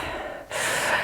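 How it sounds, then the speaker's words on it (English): A person doing yoga takes one deep breath, a soft breathy exhale followed by a fuller, louder inhale, close to the microphone. "Deep breath."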